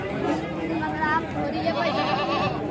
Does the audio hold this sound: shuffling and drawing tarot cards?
no